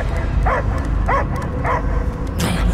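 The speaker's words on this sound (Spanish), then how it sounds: "Yo oigo ladridos de perro." Dog barking in the video game Guardians of the Galaxy, three evenly spaced short yips over a loud low rumbling background, followed by a brief sharper burst at the end.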